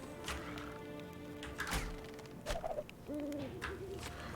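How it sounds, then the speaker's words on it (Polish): Owl hooting in the LEGO Lord of the Rings video game, a few clear hoots rising over game music and ambient effects, moderately loud. "Ale sowa."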